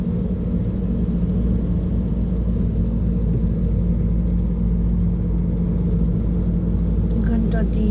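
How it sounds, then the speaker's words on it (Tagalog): Car driving on a road, heard from inside as a loud, steady low rumble and road whir that holds for the whole stretch, with a brief rattle near the end. "Serious ang asawa ko mag-drive."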